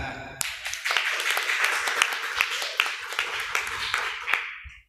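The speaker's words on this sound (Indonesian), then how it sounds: "tepuk tangan" An audience at a religious talk claps, a short round of scattered, distinct hand claps over a crowd murmur, fading out after about four seconds.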